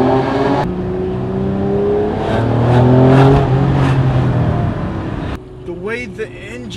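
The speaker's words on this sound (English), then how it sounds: "The sound of this engine and the exhaust note is fantastic." A Honda NSX engine revs hard through a tunnel, its reverberant exhaust roar swelling and holding, then dropping off as excited talk takes over near the end.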